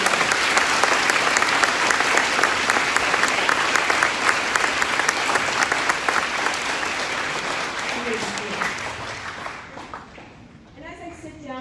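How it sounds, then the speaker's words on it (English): A class of students gives a round of applause, a loud and sustained crowd of clapping hands that tapers off near the end as voices start to come through. "I would like to give my class, my students, a round of applause"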